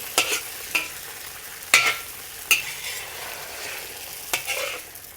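Egg and shrimp mixture sizzles in a hot wok for Cantonese scrambled eggs, with several distinct spatula scrapes and pushes over a continuous close frying hiss.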